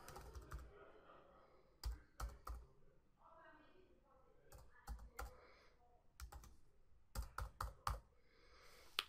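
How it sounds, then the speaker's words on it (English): Keys clatter on a computer keyboard as a URL is entered for a release management server, coming in several quick bursts of clicks between pauses, quiet and close. "we have to type the URL of our release management server"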